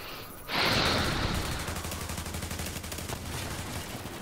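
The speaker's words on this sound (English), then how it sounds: "Oh, I got shot. This fucking turret." A turret in The Division opens up with sustained rapid automatic gunfire after a brief quiet start, a loud dense rattle continuing to the end.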